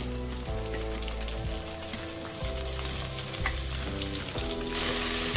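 Green chillies, garlic, curry leaves and mint fry in a pan for tomato pickle, keeping up a steady close sizzle with repeated clinks and scrapes of stirring and no talk.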